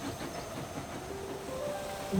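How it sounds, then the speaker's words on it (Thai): A circus train rumbles and hisses steadily at a moderate distance as it arrives, with a faint high whistle-like tone near the end. "รถไฟละครสัตว์ว้าวเขากำลังพาสัตว์ไป"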